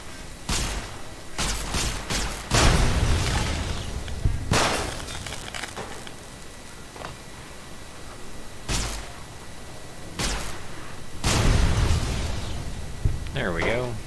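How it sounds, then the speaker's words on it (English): Explosions in Fallout New Vegas burst out as several loud, sharp blasts spaced across the stretch, with someone talking in between. "No, no, we want an explosion."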